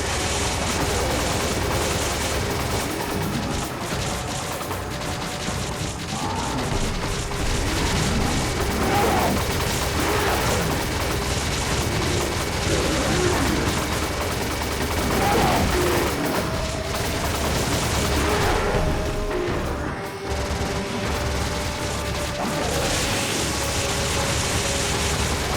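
Sustained rapid gunfire from an overheating weapon in Resident Evil 5, a dense continuous fusillade with mechanical clatter running loud throughout, game ambience underneath and no talk.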